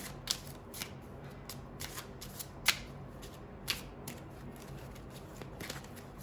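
Kipper fortune-telling cards are shuffled and drawn by hand, giving soft, close riffling and a series of crisp snapping flicks at irregular intervals in a quiet room.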